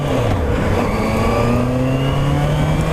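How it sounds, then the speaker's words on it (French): A motorcycle accelerates hard on a closed riding-test course during a licence exercise, its engine note climbing steadily in pitch, loud and close for the whole stretch. "On accélère un bon coup."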